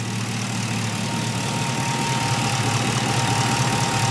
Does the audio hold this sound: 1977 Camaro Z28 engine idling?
yes